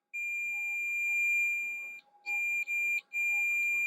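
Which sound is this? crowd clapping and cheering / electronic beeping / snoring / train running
electronic beeping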